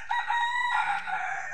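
A rooster crows once in the morning at a rural work site, a loud, close, drawn-out cock-a-doodle-doo that rises and then trails off.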